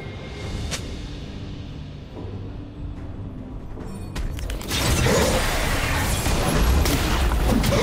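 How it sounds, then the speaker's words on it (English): A turret being destroyed in League of Legends: a sharp shattering crash erupts midway and gives way to a dense, loud rumble of debris and battle noise, after a quieter stretch of game ambience with a faint voice. "team's turret has been destroyed"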